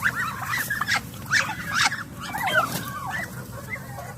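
Chickens, ducks and turkeys crowd together at feeding time on a farm, with gobbles, clucks and quacks tumbling over one another up close, bursts rising and falling across a busy low rustle.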